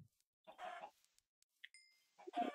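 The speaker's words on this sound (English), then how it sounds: "Some chickens for food." Minecraft chickens cluck softly in two short bursts with a quiet gap between them and a faint high tone in the pause.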